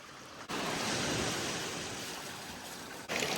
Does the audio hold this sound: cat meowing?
no